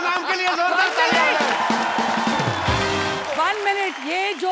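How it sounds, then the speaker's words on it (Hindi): Studio audience applause on a Hindi TV comedy talk show, a dense, loud wash of clapping and cheering with whoops, running continuously under and around talk from voices on stage. "जोरदार तालियां"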